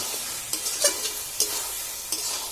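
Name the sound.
frying masala with jackfruit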